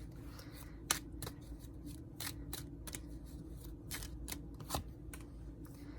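Tarot cards shuffle and slide against one another as one is drawn from the deck, a quiet run of crisp flicks and snaps with a couple of sharper clicks.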